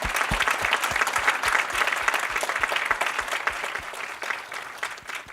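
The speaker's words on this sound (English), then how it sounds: "Let's give them a hand." An audience claps steadily, a dense wash of applause that carries on throughout and fades slightly near the end.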